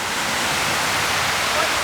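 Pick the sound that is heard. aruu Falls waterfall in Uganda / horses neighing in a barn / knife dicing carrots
aruu Falls waterfall in Uganda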